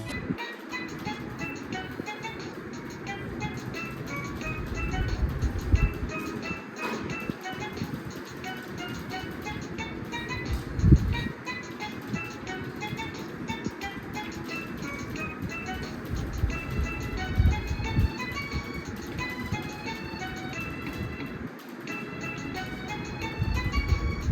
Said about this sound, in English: It's just a collection of all the little jingles you get to hear on this thing.